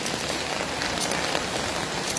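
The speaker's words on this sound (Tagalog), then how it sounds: "Lakas ng ulan talaga." Heavy rain falls outside, a loud, unbroken wash of drops hitting surfaces nearby, steady for a couple of seconds without voices.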